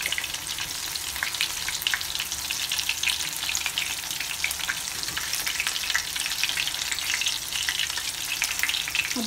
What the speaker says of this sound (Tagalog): mabilis lang magprito ng fish kasi mabilis lang naman siya talaga maluto